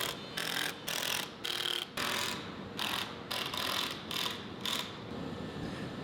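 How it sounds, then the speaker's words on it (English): Pocket hole screws driven into the sides of a wooden gaming coffee table: a series of short, close mechanical whirring bursts separated by brief pauses, with no talking. "Ian simply pocket hole screws them to the sides of the table."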